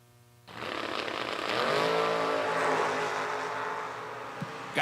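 Drag race cars launching and accelerating hard down the strip at a $250K motorsports event, a loud sustained engine roar rising in pitch and swelling for several seconds, with no talk.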